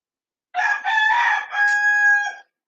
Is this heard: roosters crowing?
yes